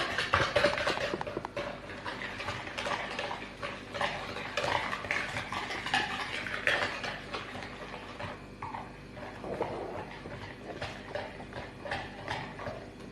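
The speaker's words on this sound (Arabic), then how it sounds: "نخلطوا هاد المكونات، السكر مع لافاني" Sugar, vanilla and eggs being mixed by hand in a bowl for a light one-egg cake: continuous close scraping and tapping of a utensil against the bowl, steady and fairly quiet, with no talk.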